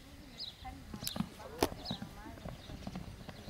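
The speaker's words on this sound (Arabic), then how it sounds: "جبنا وليدي يشوف حصان عمره ما شايف حصان بابا يركض" A running horse's hooves clip-clop in quick irregular beats at moderate distance, with people's voices talking over and between the strikes.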